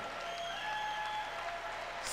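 Crowd applause in a gym at a men's volleyball match against Loyola Chicago as a player is introduced, steady, dense clapping throughout with a faint tonal hum beneath.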